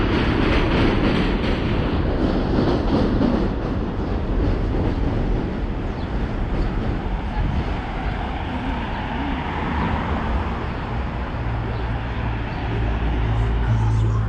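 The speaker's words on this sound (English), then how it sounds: "And there's another subway passing down below there." A subway train rumbles through a tunnel beneath a Manhattan street, a steady loud low roar with rail clatter filling the whole stretch, mixed with city traffic noise.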